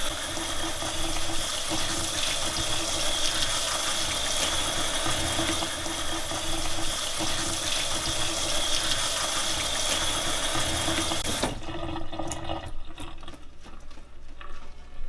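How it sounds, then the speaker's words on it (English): Salmon fillets rinsed under a running kitchen tap, a steady loud rush of water splashing for about eleven seconds before it cuts off, leaving quieter patter and drips. "I'll rinse these ones as well."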